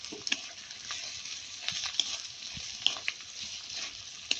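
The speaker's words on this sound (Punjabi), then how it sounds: "ਤੇ ਹੁਣ ਪਾ ਦਾਂਗੇ ਜੀ ਆਪਾਂ ਗਾਜਰਾਂ ਗਾਜਰ ਕਿਉਂਕਿ ਸਖਤ ਹੁੰਦੀ ਹੈ ਇਸ ਕਰਕੇ ਆਪਾਂ ਇਹਨਾਂ ਨੂੰ ਪਹਿਲਾਂ ਪਾਵਾਂਗੇ" Carrots sizzle and crackle as they are stir-fried in a pan for street-style veg chowmein, a steady close frying hiss broken by occasional sharp pops and stirring scrapes.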